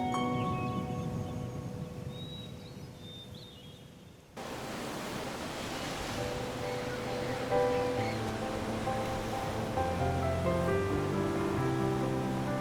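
Ocean waves: a steady, broad wash of surf that swells in after a quieter tonal opening, then rolls on continuously at a moderate level with no voices.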